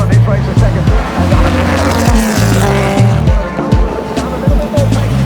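A historic racing car at the Goodwood Revival runs flat out and slides, its loud close engine roaring steadily with rhythmic pulses and a tire squeal, while a commentator talks over it.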